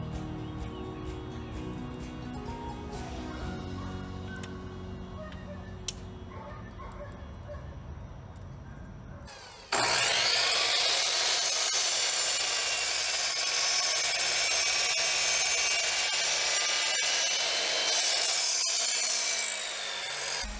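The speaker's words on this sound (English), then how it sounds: "I have this 4x4 post that I'm going to be cutting down into 3-inch" Rough, steady hand sawing through a thick wooden 4x4 post begins about halfway, rasping back and forth loudly and close up after a quieter stretch of low humming noise.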